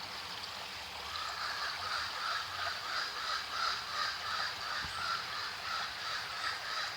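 Running stream water flows steadily along a Jamaican nature walk, a continuous moderate hiss and trickle with a faint pulsing texture and no voices over it.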